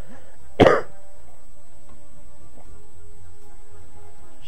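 A single sharp, close cough bursts out once, then fades into a quiet background hum.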